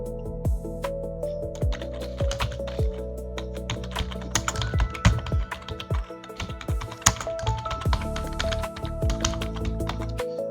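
Fingers typing on a computer keyboard, with quick irregular key clicks, close and clear, running continuously over a faint steady electrical hum.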